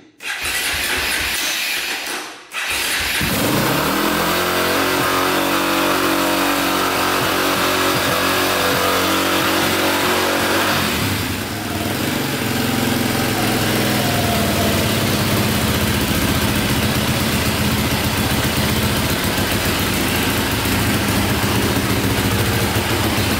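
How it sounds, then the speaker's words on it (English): KTM 450 dirt bike engine cranks and fires, then runs at a loud, steady idle close by with a brief dip partway through and no voices. "And then we just hit the start button and hopefully it starts up."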